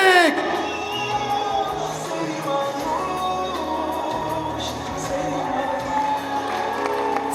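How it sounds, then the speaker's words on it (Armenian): Wedding guests cheer and whoop loudly in a sustained, dense crowd roar, with scattered applause and shouting voices mixed through it and music-like tonal lines running underneath. "Ծափահարությունները"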